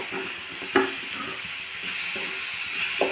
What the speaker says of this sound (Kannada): ನೋಡಿರಿ, ಇಲ್ಲಿ ಟೊಮಾಟೊ ಹಣ್ಣು ಈ ಥರ ಫ್ರೈ ಆಗ್ತಾ ಇದೆ.